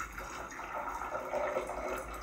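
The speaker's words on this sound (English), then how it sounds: "So when I pour the hot water here into this beaker," Hot water poured from a kettle into a beaker in a classroom, a steady continuous splashing pour of moderate loudness.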